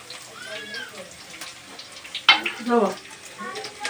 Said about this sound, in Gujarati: હા આ જાય છે આપણા મેથીના મૂઠિયા વઘાર માટે આપણે વઘારીને બનાવ્યા